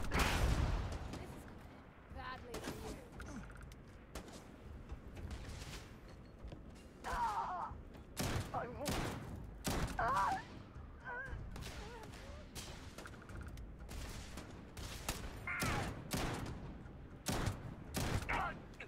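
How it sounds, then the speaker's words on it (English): Shotgun blasts in the sci-fi game Starfield, a dozen or so sharp, loud shots at irregular intervals amid combat noise, with brief grunts and effects between them. "Missed with a shotgun."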